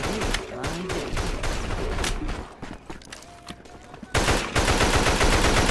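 Gunfire in a zombie shooter video game, with rapid automatic bursts and shots running nearly continuously, loud and close, easing slightly midway before a louder barrage at the end.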